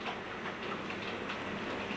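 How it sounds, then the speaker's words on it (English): A model train on a layout runs steadily past a red signal, giving a continuous close rolling rattle with a faint rhythmic clickety-clack and no voices. "Now there's nothing to stop the train going through."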